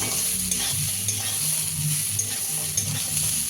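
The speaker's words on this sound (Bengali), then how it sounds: "চিনি দিয়ে একটু নাড়াচাড়া করে নেবো" Chickpea greens sizzle in a pan with a little sugar while a utensil stirs and scrapes through them, giving soft rhythmic scuffs over a constant frying hiss.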